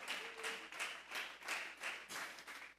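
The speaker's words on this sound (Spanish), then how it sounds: "Vamos a regalarle ofrenda de palmas para Dios." A church congregation claps together in a steady, even rhythm during a Thursday doctrine service, about three claps a second, sounding soft and somewhat distant with no talk.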